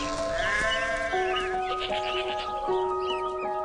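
A lamb bleats among farm animals, one long wavering bleat near the start with fainter bird-like calls over a steady background, close and moderately loud.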